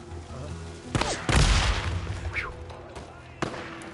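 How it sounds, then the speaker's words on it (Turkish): Bomb explosion in Days Gone, a single heavy booming blast erupting near the middle, preceded by a sharp crack and followed by a trailing rumble and another short bang, with someone talking over it. "Ah, bomba atıyor, bomba atıyor, koş."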